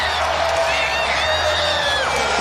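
Capacity arena crowd at a Knicks basketball game roaring and cheering after Julius Randle's power slam dunk and foul, a sustained loud wash of voices with whoops rising over it, continuous for the whole stretch.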